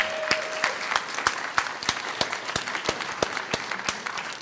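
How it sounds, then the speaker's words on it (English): Scattered clapping from a small audience at a gaming event stage show, sharp separate claps in an uneven rhythm rather than a dense ovation. "A round of applause for Grem."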